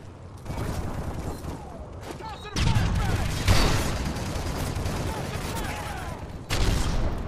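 Modern Warfare 3 gameplay with bursts of rapid hip-fired gunfire and mechanical clatter, loud close shots surging in waves over a noisy match background.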